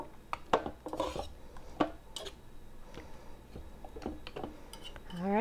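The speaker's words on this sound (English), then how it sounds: "So I'm going to just take this fork, just spin them around a little bit, get that coating on all of them" A fork stirs and spins baby back ribs coated in sauce inside a crock pot, giving scattered close metallic clinks and scrapes against the pot, with soft wet movement between them.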